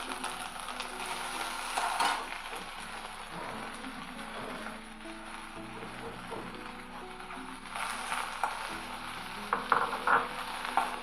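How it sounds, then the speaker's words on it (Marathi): Onion roasts in a pan for Malvani-style chana palak, a steady close sizzle running throughout with occasional stirring scrapes and rattles. "आता आपण कांदा भाजून घेऊ।"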